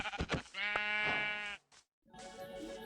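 A sheep in a video game gives a loud, drawn-out bleat, then a short break and a second wavering bleat. The calls come up close with no speech over them.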